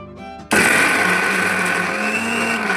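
A mixer grinder whirs to life, grinding fried masala, grated coconut, coriander, mint, sambar powder and a little water into a smooth paste, with a loud, steady motor whine running continuously after a short quiet start.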